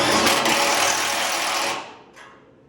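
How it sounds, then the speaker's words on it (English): A 13 mm socket wrench tightens a bolt on a snow plow mounted to an RZR trail vehicle, a fast continuous ratcheting clatter that runs loud for nearly two seconds, then stops and leaves faint residual noise. "So it's 13 metric, and we're just tightening it."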